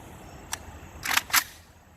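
AK rifle chambered in 5.45 fitted with an FH4-AK flash hider, firing three sharp shots outdoors: one isolated report, then two more in close succession, each short and bright, heard from a moderate distance with no talk.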